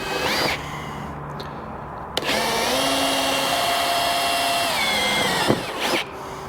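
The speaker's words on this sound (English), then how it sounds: "So let's drill those other 2 holes." A power drill bores holes through the sheet metal of a Ford Raptor truck, whining steadily at high speed for several seconds between sharp start and stop bursts, close and loud with no talking.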